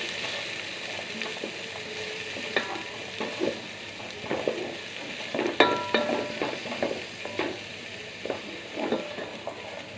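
Onions sizzle in hot oil in a pan for peas pulao, a steady close frying hiss broken by scraping stirs of a utensil against the pan and occasional light clinks.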